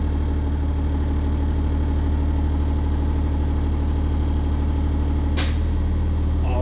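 A school bus engine idles steadily, then a sharp burst of air hisses out briefly near the end as the air brakes release before the idle continues.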